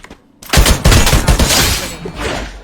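Loud bursts of automatic gunfire in a video game, a rapid fusillade of sharp repeated shots after a brief quiet start, close and dominant, continuing in uneven clusters.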